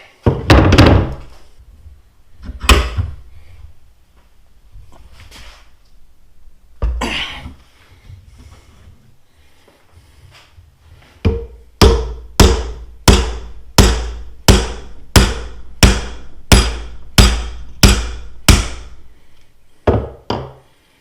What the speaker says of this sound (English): Now we're going to put it in the vise and hopefully just tap that right out.